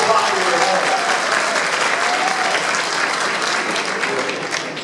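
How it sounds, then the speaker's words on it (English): An audience gives a loud, dense round of applause at an evening event, many hands clapping steadily for several seconds and slowly tapering toward the end. "I never get this kind of round of applause in my own city, for my own folks."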